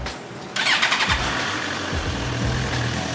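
A Suzuki GSX-R1000 K7 sport motorcycle with a slight misfire starts up and runs, a sudden loud burst of engine noise after a quiet moment, then a rough idle with a few uneven revs and dips.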